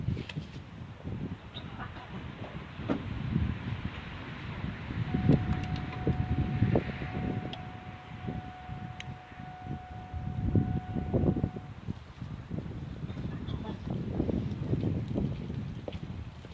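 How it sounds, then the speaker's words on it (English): With the key on and engine off, the electric fuel pump on a GM 3.4L engine with low fuel pressure and hard starting gives a thin, steady whine for several seconds, heard faintly beneath broad rumbling background noise. "So you can hear the pump energized, and that's taking us up to 28 pounds of pressure."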